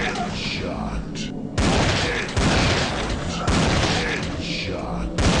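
P90 gunfire in a dead target shooting video game: loud dense bursts of rapid fire in separate volleys, with booming impacts and a faint background voice between bursts.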